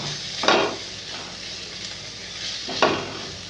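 Chopped onion and tomato with salt frying in a pan for soybean momo filling, a soft steady sizzle broken by two distinct stirring scrapes about two seconds apart.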